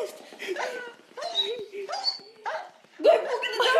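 A dog in a video game barks in several sharp, yipping bursts with whimpering tones between them, heard clearly at close range in a busy stretch of game sound.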